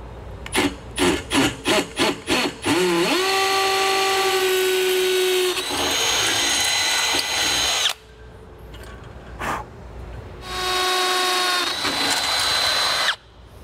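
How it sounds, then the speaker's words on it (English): A power drill bores through an aluminum RV ladder and hinge on a 2021 Keystone Passport SL travel trailer, opening with several short trigger bursts, then long sustained whining runs up close, with pauses between. "we are going to drill through our ladder, our hinge, and then back out through the other side"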